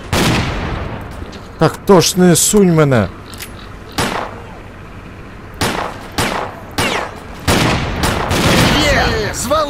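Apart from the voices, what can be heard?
gunfire in video game S.T.A.L.K.E.R.: Clear Sky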